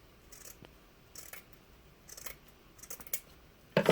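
Scissors cut through a sheet of burlap in a few separate crisp snips, close and quiet, spaced out with pauses between them and a louder rustle at the end.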